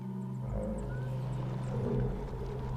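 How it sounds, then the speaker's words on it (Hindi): An elephant in a wildlife documentary gives a low, rough, roaring call that holds steady for a few seconds at moderate loudness. "वो ऊंची और कम फ्रीक्वेंसी वाली आवाज में चिंघाड़ सकते हैं जो बहुत दूर तक जाती है।"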